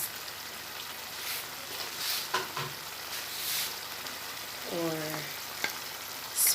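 Chopped onions and red peppers frying in a pan for Jamaican mackerel run down, a soft, steady sizzle with a few clinks and stirring noises, moderately quiet.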